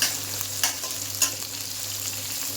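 Nigella seeds dropped into hot oil already sizzling with green chilies, a steady close frying hiss broken by a few brief bursts as the seeds hit and a utensil stirs.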